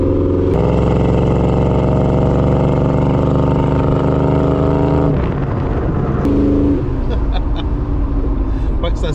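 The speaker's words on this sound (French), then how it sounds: "Ça sonne comme un 350 de Chevrolet." A Chevrolet 350 V8 in a 1981 Monte Carlo Landau drones loudly and steadily with a deep rumbling tone that shifts pitch partway through, while people talk over it.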